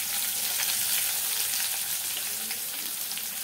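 Onion fries in hot oil with fennel seeds and a piece of cinnamon in a pan, giving a dense, steady sizzle that fills the whole moment, close and even, with no voices.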